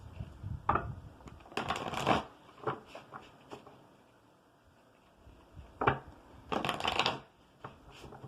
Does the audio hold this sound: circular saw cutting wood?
no